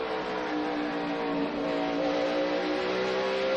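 NASCAR stock cars roar around the Bristol track during the 2011 Jeff Byrd 500, a loud continuous engine drone with rising pitch as they accelerate, several cars blending together with no voices.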